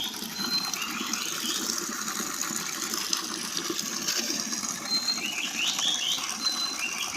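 River water, the Harabhanga, flows in a soft, continuous wash with small gurgles and trickles, heard faintly at a distance with no talking.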